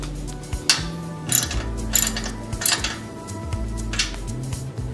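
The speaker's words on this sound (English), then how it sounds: "that'll use a 17 millimeter socket to tighten that up" A 17 mm socket tightens bolts on an industrial sewing machine K-leg stand, with repeated close ratchet clicking in short bursts, metallic clinks between them, and a low mechanical hum underneath.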